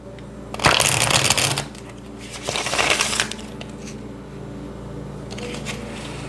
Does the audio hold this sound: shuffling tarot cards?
yes